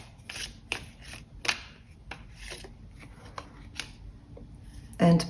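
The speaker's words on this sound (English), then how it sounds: "And let's shuffle once more." Tarot cards are shuffled in a quiet room, giving a series of soft, close riffling and sliding bursts at an uneven rhythm, with a louder rustle near the end and no talking.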